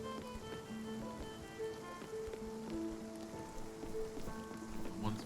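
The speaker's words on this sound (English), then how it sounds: "Oh, this rain. Will it ever stop?" Steady rain patters in the video game Spiritfarer, a soft continuous downpour layered under gentle tonal game music.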